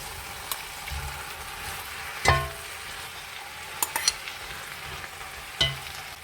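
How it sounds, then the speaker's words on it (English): Prawn meat stir-fried in a pan over medium-low heat, a soft steady sizzle with a few sharp clinks and scrapes of a utensil against the pan, close and fairly quiet. "Let's add in our prawns meat."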